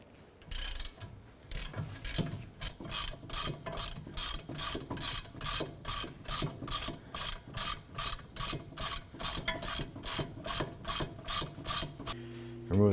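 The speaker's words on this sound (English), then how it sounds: "Using our 17mm socket and our 1/2" drive ratchet, let's go ahead and loosen these bolts." A 1/2-inch drive ratchet with a 17mm socket loosening brake caliper bracket bolts on a 2008-2012 Honda Accord: steady, rapid ratcheting clicks in rhythmic bursts, close and clear, with no talk.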